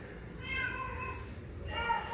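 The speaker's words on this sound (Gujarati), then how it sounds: "જો પાછી બીજી બિલાડી છે જો રે." A cat meows from a cartoon playing on a television, a few drawn-out tonal cries over soft room background.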